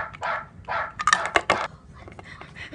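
A dog barks at a door in a quick series of sharp, close yaps, with a couple of softer barks before and faint scuffling after.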